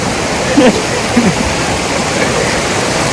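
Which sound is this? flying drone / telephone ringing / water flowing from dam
water flowing from dam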